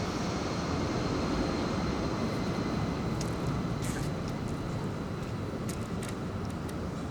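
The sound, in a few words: airplane taking off from nearby airport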